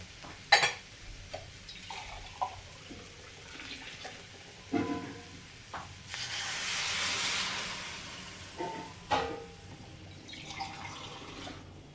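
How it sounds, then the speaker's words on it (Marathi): Water pours into capsicum curry cooking in a pan, a soft rushing hiss swelling for a few seconds amid scattered utensil knocks and faint background noise. "आता याच्यामध्ये मी टाकते पाणी"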